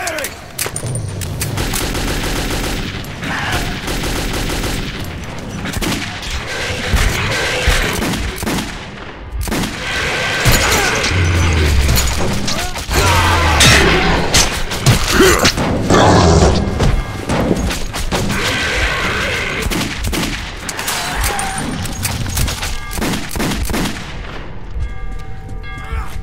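Gunfire rattles through a firefight in the game Metro 2033, with loud, dense bursts of automatic shots, heavy booms and crashing impacts that come in waves across the stretch, and a voice surfaces briefly among them.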